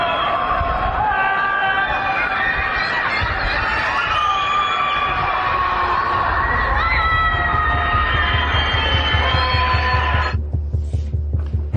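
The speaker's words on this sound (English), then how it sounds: "What you're hearing in this video are the screams of the people trapped inside." Many distant voices of people trapped in Shanghai apartments scream and wail together in a continuous chorus, echoing between buildings, over a low rhythmic throbbing that continues alone at the end.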